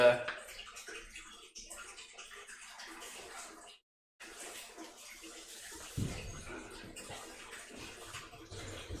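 Chilly water sloshes in a tub as a boa snake is bathed, with continuous gentle splashing, a brief silent gap, then a louder splash, while a person talks at moments.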